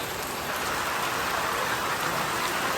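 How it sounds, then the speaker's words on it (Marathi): Heavy rain pouring steadily on surfaces during a monsoon outing to a hill station, a loud, dense, unbroken hiss with no pauses and no voices. "सगळीकडे पाऊस चालू आहे खूप जोरात."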